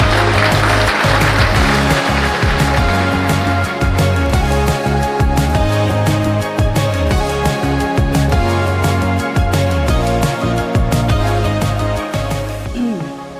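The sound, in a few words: audience round of applause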